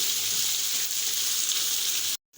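Okra (bhindi) fries in oil over a high flame, a loud, steady close sizzle that runs unbroken before cutting off abruptly at the end.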